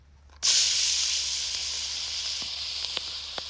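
Onion with red and green pepper hits a hot pan on a camp stove, an abrupt loud burst of sizzle that settles into a steady close hiss with a few faint pops.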